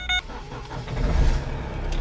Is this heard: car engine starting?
yes